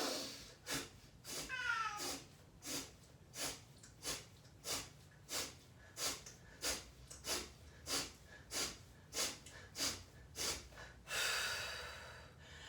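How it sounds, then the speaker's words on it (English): Quick, forceful breaths during a breathing exercise come in about fourteen evenly spaced, close puffs of air, a sharp rhythmic inhale-exhale pattern that ends in a longer, drawn-out breath. "So inhale quickly, exhale quickly."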